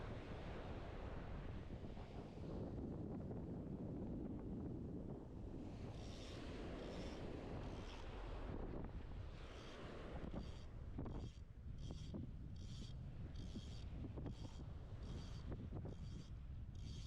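Wind buffets the microphone in a constant low roar while fishing by the sea, with surf washing in the background and a faint repeating high whine toward the end.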